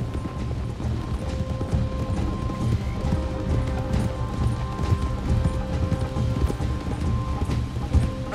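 Steady horse hoofbeats in Red Dead Redemption 2 clip-clop along under a busy bed of music and ambient noise, with faint mechanical clanks scattered throughout.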